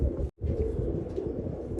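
Pigeons of the Ustad Kake Kile breed give low, soft, continuous cooing close by, broken once by a brief silence.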